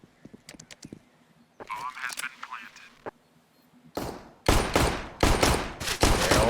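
Gunfire in a competitive Counter-Strike match: sparse single shots at first, then loud, rapid bursts of automatic fire near the end, with a voice speaking in the middle.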